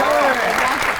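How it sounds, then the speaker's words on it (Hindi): Applause from a studio audience on a Pakistani talk show, a dense, steady clatter of clapping that fills a brief moment with a voice mixed in. "आपकी बहुत सी तालियों में"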